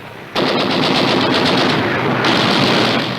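WW2 machine gun and rifle fire in a South Pacific jungle battle: a dense, continuous burst of rapid automatic fire that starts abruptly and stays loud and unbroken to the end.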